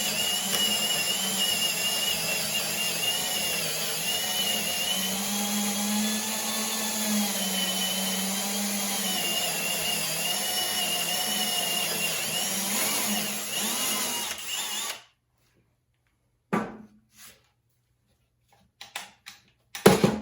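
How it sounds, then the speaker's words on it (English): A drill bit bores into a clamped wooden end piece for a tote box, a steady loud whirring drone held for about fifteen seconds, then cutting off into near silence with a few small knocks. "Going to clamp it down, center the drill bit in our mark"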